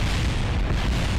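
A rocket explodes in the space-flight video game Kerbal Space Program, heard as a loud, continuous booming rumble that fills the whole short moment with no voices over it.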